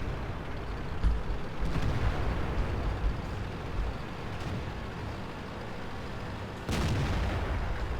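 Tank cannon fire in a World of Tanks battle, an AMX ELC light tank in play: a loud boom near the start and another blast later over a continuous rumbling engine bed, no talking.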